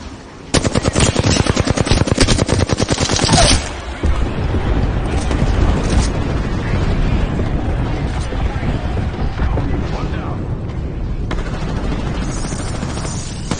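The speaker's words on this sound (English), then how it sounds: "Call in the airstrike." Gunfire and airstrike blasts in Apex Legends, a rapid machine-gun burst up front giving way to a long, loud rumbling barrage of explosions that keeps going to the end.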